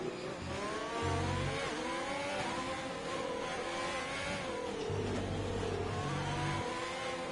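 Race car engines rev and accelerate in a racing video game set at the Spain Grand Prix, a steady loud buzzing drone with rising and falling pitch as cars speed by.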